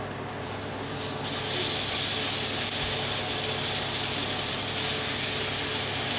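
Pieces of shin of beef searing in a hot, smoking pan, giving a loud, steady, broadband sizzle that swells in within the first second and then holds unbroken, with no voices over it.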